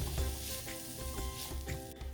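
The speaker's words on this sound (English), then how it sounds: "So we're cooking the peppers down" Peppers cooking down in a pan for zucchini beef lo mein, with a steady close sizzle and light stirring scrapes running through the whole stretch, no voices.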